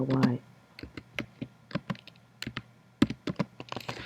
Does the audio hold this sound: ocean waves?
no